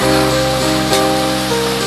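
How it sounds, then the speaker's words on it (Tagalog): Steady rain hisses in a broad, even wash with a low hum underneath, continuous and fairly loud. "Umuulan na."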